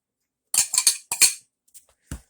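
A utensil cuts partly melted butter into a flour, oat and wheat germ mixture for cholesterol-free banana bread, giving a few quick scraping clinks in short bursts, then two softer taps.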